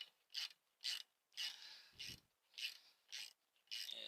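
Ratchet tightening bolts on a luggage rack for a Royal Enfield Classic 350 Reborn, quiet and close, in short bursts of rapid clicking strokes, about eight in four seconds.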